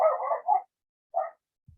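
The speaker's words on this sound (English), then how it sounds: "That's the dog." A dog barks indoors, a short burst of two or three quick barks followed by a single lone bark, close and fairly loud against an otherwise quiet room.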